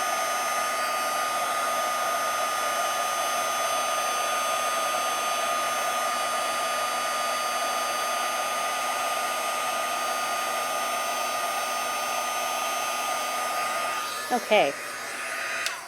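A heat gun blows a steady, loud whoosh with a constant whine while it embosses a stamped card design until the powder turns shiny white. The roar runs unbroken and then cuts off near the end, where a brief voice is heard.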